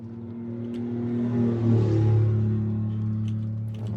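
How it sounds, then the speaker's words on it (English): A car drives past loudly, its engine hum swelling as it nears, peaking at mid-pass and fading slowly away, heard alone with no talking. "A car just went by"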